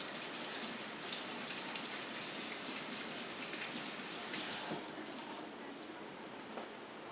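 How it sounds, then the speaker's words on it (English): A kitchen tap runs in a steady splashing stream while fresh coriander is washed under it, with the flow shifting and thinning toward the end, no voices present. "I'm going to wash the coriander."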